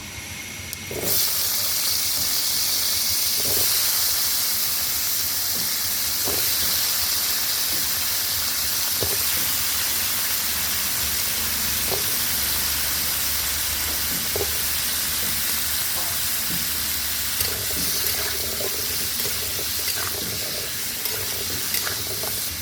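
Steady loud hiss of pumpkin and potato frying in oil, with occasional clicks and pops over a continuous sizzle, no talking.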